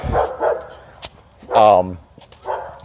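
An elderly dog with bad, injured legs gives a few short barks and yips, close by, spaced across a couple of seconds.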